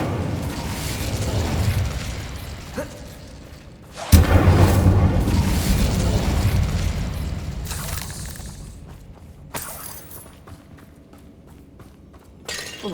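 Confringo and Incendio spells in Hogwarts Legacy burst with a sharp crack and a roaring blast. The rumbling fire then decays over several seconds, and smaller impacts follow.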